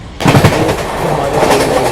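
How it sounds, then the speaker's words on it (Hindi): A Mumbai local train rolls past alongside a moving train, a loud close rumble with rhythmic clacking that starts abruptly and keeps going. "देखिए लोकल हमारे बगल से गुजरते हुए"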